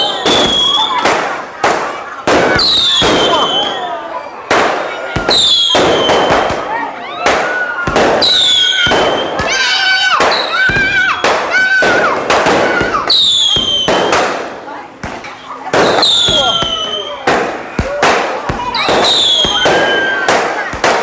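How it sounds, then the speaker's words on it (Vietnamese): A Mid-Autumn Festival fireworks display in a residential lane sends out a rapid series of loud booming bursts and crackles with whistling rockets, while crowd voices rise underneath. "chúng ta vừa được thưởng thức một màn pháo hoa thật là tuyệt vời ạ"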